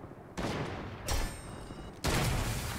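Bursts of gunfire in the Fortnite battle royale game, arriving as three loud, noisy volleys with a brief lull between them and dense broadband crackle throughout.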